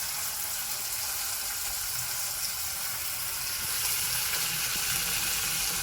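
Asafoetida frying in hot oil in a pan, giving a dense, loud, continuous sizzle that holds steady and swells slightly toward the end, with no voices.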